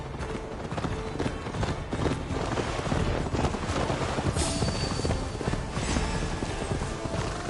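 Galloping horse ridden by a Viking character in Assassin's Creed Valhalla, with rapid, loud, close hoofbeats driving continuously over rushing ground and wind noise.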